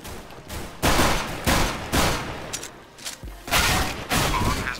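Bursts of gunfire in Counter-Strike: Global Offensive, a teammate firing in repeated loud volleys of rapid shots with short gaps between them.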